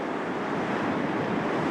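Sea waves and wind buffeting the microphone at Bishop Rock lighthouse, a steady broadband roar of surf with gusty rumble, continuous and fairly loud with no voices.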